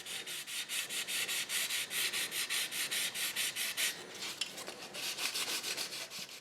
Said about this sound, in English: Wet sanding with some 400 grit sandpaper will prepare the surface for the new paint.